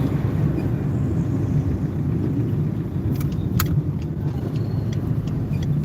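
Car racing along a highway, heard as a constant, loud low road-and-engine rumble that holds steady throughout, with a few faint rattles near the end.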